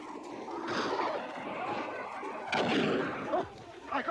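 Gunfire in a battle scene from a Shaka Zulu drama, with several sharp shots ringing out at moderate distance amid a busy, noisy backdrop; no words are spoken.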